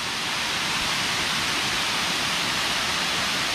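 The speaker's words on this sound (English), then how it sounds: "There's the falls. Quaker Town Falls." Quaker Falls, a waterfall in the Quaker Falls Recreation Area near Edinburg, Pennsylvania, roars in a dense, unbroken rush of falling water, steady and close for the whole stretch.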